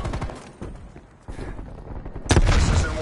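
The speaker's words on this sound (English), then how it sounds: "Deploying sentry turret." A sentry turret deploys in Call of Duty Cold War multiplayer with rattling mechanical clatter, then bursts into loud, sharp gunfire that ends the clip close and dense.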